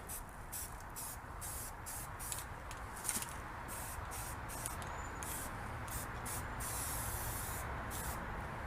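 Aerosol rust reformer hissing steadily from a spray can onto a 1947 MG TC part, a continuous close spray with brief pauses between bursts.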